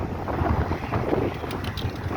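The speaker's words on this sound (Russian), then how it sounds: "Но ветер такой неутихающий." Strong, unrelenting wind blows outdoors along a city street, buffeting the microphone with a loud, continuous roar that swells and eases without any lull.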